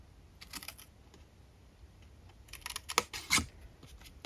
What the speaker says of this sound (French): Donc, on coupe.